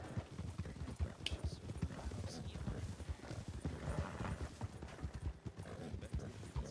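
Horse hooves clip-clop in a steady, close rhythm for several seconds while voices talk over the top.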